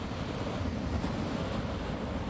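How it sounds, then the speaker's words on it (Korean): Strong surf forcing through lava rock at Spouting Horn on Kauai, Hawaii, a continuous loud rushing roar of waves and spray with wind noise, steady and close, with no voices. "강한 파도가 서로 부딪히면서 용암 바위 사이를 통과해 하늘로 솟구치는 스파운팅 혼"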